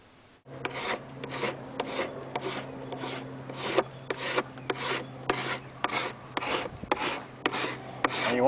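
Half-cured Bondo body filler being sanded by hand on a helmet, a close, raspy scrubbing in rapid back-and-forth strokes that runs steadily after a brief quiet start, with a faint hum underneath.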